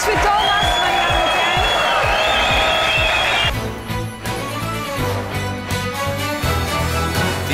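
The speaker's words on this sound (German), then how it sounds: "Applaus für Thomas, meine Damen und Herren" A television quiz show studio audience cheers and applauds for a departing contestant, a loud dense crowd sound that gives way to music and a lively mix of voices.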